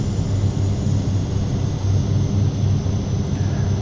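Engines of a Carenado Shorts 360 twin-turboprop in a flight simulator game drone steadily and loudly, with a continuous low throbbing hum and no pauses or talking.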